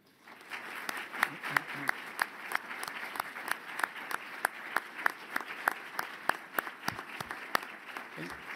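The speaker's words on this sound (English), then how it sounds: "please join me in a round of applause for these very talented students" An audience at an honors awards ceremony applauds students with steady, sustained clapping from many hands, a dense rhythmic patter of claps that carries on throughout.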